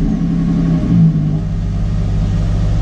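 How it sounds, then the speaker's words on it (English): A car engine cold starting, a steady loud low rumble that swells briefly with a rev near the middle, then settles back to a deep idle close by. "This will probably be the first cold start we all hear of this car"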